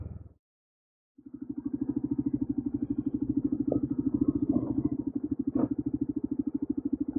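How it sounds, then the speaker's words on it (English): A moped ridden in Algeria cuts in after a short silence, then its small engine putters steadily and close, with a few rattles and clatters along the way. "comes along on a moped."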